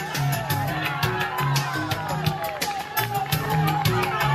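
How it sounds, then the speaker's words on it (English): A thick roadside crowd cheers and whoops during a virtual World Championship cycling race on an Iceland course, with rhythmic cheering bursts under a commentator's talk. "this crowd seems to be getting thicker and thicker"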